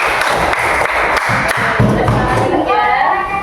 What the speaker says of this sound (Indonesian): Boleh tepuk tangan buat kelompok 3 ya.